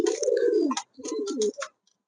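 Pigeons cooing close by in two soft, rolling bursts, with a brief pause between them and no talking.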